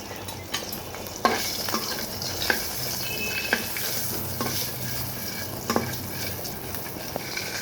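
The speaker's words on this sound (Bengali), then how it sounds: "এখানে আমি ডিমটা এখন ভেজে নিচ্ছি।" An egg frying in a home kitchen pan, with steady sizzling and bubbling oil broken by a few sharp clinks and scrapes of a utensil, close and moderately loud, no voices.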